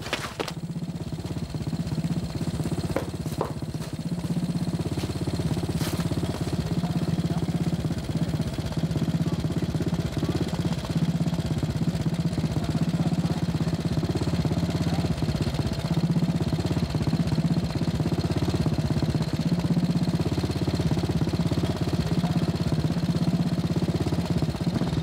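A motorcycle engine idles steadily and fairly close for about twenty-five seconds, a low, even rumble with slight fluctuations and a couple of brief knocks early on.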